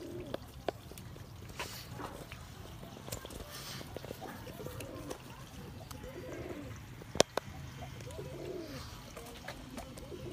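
Sialkoti pigeons coo softly on a rooftop loft, a steady low murmur of repeated calls under faint background noise, with one sharp knock partway through and no speech.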